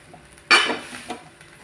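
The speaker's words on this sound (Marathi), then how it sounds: "चांगलं लालसर परतून घ्यायचं" A utensil scrapes and clanks against a pan while a modak filling is stirred and sautéed, one loud scrape followed by a softer second stir, otherwise quiet.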